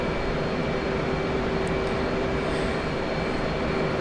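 Steady, loud jet engine roar of an aircraft climbing out after takeoff in the DCS flight simulator, a constant broadband rush with a faint whine and no voices.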